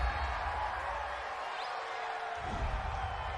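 Home stadium crowd at an NFL football game between the Tennessee Titans and Carolina Panthers, a broad sustained roar of cheering spectators reacting to a referee's call, steady and distant-sounding throughout.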